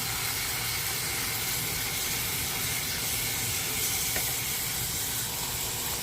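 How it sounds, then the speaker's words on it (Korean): Kimchi being stir-fried in a pan for kimchi stew gives off a steady, dense sizzle and hiss that runs continuously and loudly from start to finish. "뭐 열심히 볶아줄 필요도 없고 그냥 대충 볶아요."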